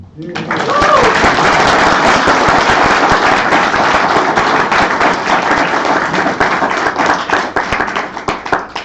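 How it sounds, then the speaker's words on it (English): Wedding ceremony guests break into loud, sustained applause, dense clapping holding steady for several seconds before thinning toward the end, with a brief voice near the start. "I think they deserve a clap"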